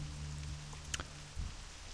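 Rain falls in World of Warcraft Classic, a soft, continuous hiss of drops with a brief click partway through, faint and without speech.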